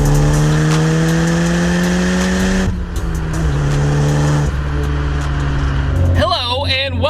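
A Nissan Pulsar GTI-R accelerates hard, its engine note climbing through a gear, dropping at a shift and pulling again, loud and close, with a warbling squeal rising near the end.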